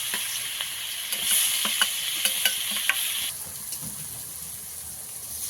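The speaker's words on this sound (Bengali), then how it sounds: "পেঁয়াজটা ভালো করে একটু ভেজে নেব।" Finely chopped onions fry in hot oil with whole garam masala for a prawn malai curry, hissing in a bright, constant sizzle broken by sharp clicks of a stirring utensil, close and loud with no talking.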